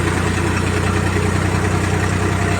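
A Mahindra B 295 tractor engine idles close by, a steady loud low throb with even, unbroken pulsing and nothing else over it.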